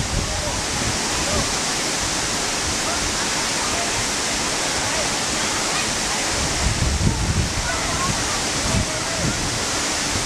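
Khun Korn waterfall pouring in a continuous dense rush of falling water, close and enveloping, with voices briefly heard over it.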